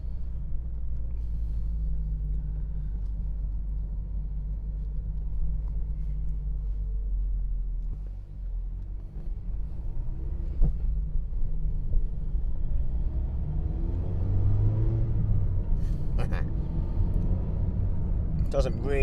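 A 2016 Mazda MX5 ND rear-wheel-drive sports car gives off a steady, deep engine and road rumble while driving, with wind buffeting and muffled talk joining toward the end.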